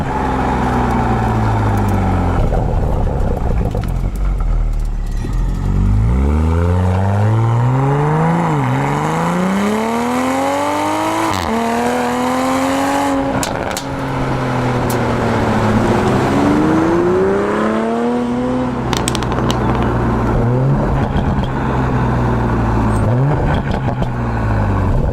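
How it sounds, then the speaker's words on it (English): A Toyota Supra engine revs repeatedly, rising and falling through several sweeping climbs in pitch, loud and close, with a raspy exhaust tone and no talking. "What really is cool about this car is just how good it sounds."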